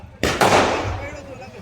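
At a wedding celebration, two firecrackers go off close together in quick succession. The second crack rings out into a long echoing decay, with faint talk behind it.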